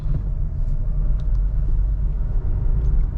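Honda Elevate engine idling along at low speed in second gear, a steady deep rumble with constant low-end drone and no talk, engine note continuous throughout.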